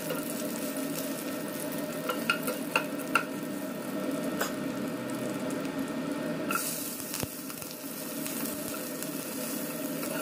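Six or seven lightly crushed garlic cloves sizzle in hot oil in a pan, a steady close frying hiss with a few sharper pops early on and a brief clatter partway through.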